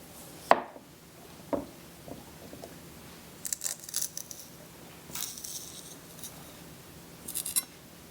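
A knife cuts a bad spot out of a potato: a sharp knock of the blade, then softer scattered cuts and scraping against a board, ending in a couple of faint clicks, all close and unaccompanied by talking.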